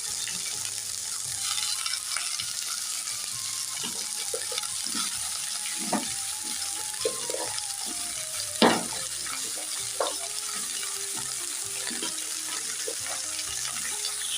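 Potatoes, beans and eggplant fry in oil tempered with spices for a spinach dish, a steady hiss with occasional stirring scrapes and clinks, no voices present.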